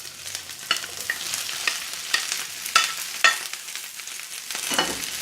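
Three peppers stir-fry in a hot pan with chili oil, a steady close sizzle broken by repeated scraping strokes of a spatula stirring them around.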